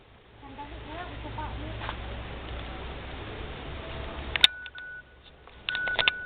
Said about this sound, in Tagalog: Yan, may nag-text.